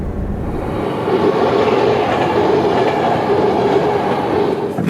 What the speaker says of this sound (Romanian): Nu știu dacă am stat 15 secunde de când s-a pus bariera până a trecut trenul.